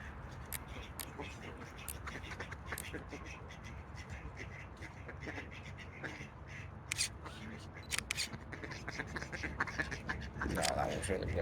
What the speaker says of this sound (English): this spot is really populated right now with ducks